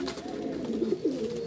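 A short burst of low, throaty cooing from a flock of 26 fancy pigeons, soft rolling calls overlapping with a couple of brief louder swells, no voices.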